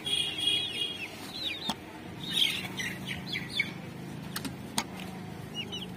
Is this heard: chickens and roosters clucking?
yes